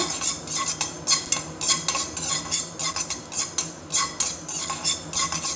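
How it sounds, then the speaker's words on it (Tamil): White sesame seeds dry-roast in a pan for puliyodharai, heard as a rhythmic series of close, brisk scraping strokes of a spoon against metal, with only a faint crackle beneath. "இது நல்லா பொரிஞ்சு வருது பார்த்தீங்களா"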